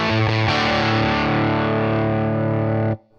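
Electric guitar through an Albion TCT-35C amplifier on its A channel with the power soak at 33%, playing a distorted chord that sustains loud and close for almost three seconds before being cut off abruptly.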